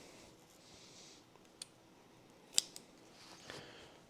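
Scissors snip hockey stick tape in a few short, quiet clicks, with a sharper cut near the middle over a soft room background.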